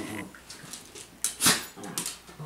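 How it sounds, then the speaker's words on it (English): Two pet dogs whimper and yip indoors, a run of thin, high whines and short yelps, close and fairly loud, rising to a sharp yip near the middle and trailing off into softer whimpers. "Roger and Arthur, my two dogs."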